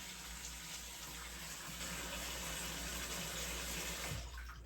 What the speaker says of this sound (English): We have running water inside from the well